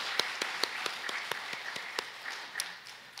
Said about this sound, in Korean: 다시 한번 뜨거운 박수 보내드리겠습니다